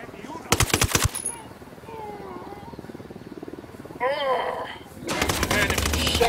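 Automatic gunfire from the video game Ghost Recon Wildlands comes in loud rapid bursts at the start and again near the end, with a voice talking and game sounds in the quieter stretch between.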